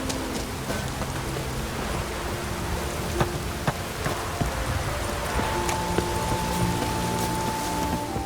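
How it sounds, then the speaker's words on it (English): Steady rain falls in The Witcher 3, a dense, even hiss of drops on surfaces with occasional sharper drips, continuing without pause and with no voices. "It's raining."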